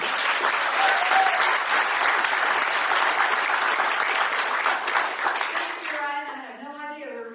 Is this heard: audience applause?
yes